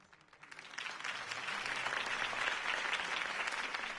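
Crowd applause for Harvey Dent's campaign speech in the Batman Telltale game, starting soft and swelling within a second into sustained, dense clapping from a large audience, with no voices over it.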